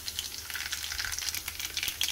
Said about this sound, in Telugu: మంటను లో ఫ్లేమ్లో పెట్టుకొని తాలింపుని ఫ్రై చేసుకోవాలి